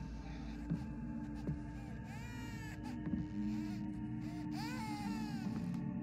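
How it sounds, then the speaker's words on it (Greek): A baby cries in the horror video game Visage, faint repeated wails rising over a low droning hum with soft thudding pulses, distant and eerie. "Το καημένο το μωράκι κλαίει"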